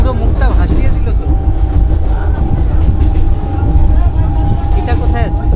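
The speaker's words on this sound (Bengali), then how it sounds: "ট্রেন ঢুকছে বহরমপুর স্টেশনে" A train pulls into Berhampore station with a loud, continuous low rumble and a sustained tonal whine, while people talk nearby over the noise.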